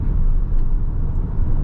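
Interior rumble of a Peugeot e-Partner electric van driving uphill as it gains speed, a loud steady low-frequency road and drivetrain drone with no voices.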